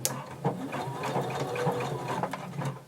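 A sewing machine back stitches at the start of a seam on a dress bodice, a steady close mechanical whir with a few sharper clicks as the stitching direction changes, running alone without talk.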